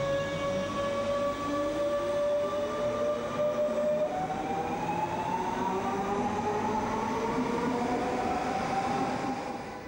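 A DB class 425 regional electric multiple unit passes through Heidelberg station, its rising motor whine and rolling wheel noise steady and loud throughout with no voices.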